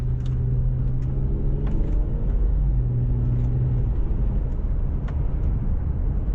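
A 2009 Volvo XC60 T6 SUV engine runs in sport mode with a steady low rumble heard from inside the cabin, with its pitch shifting as gears change.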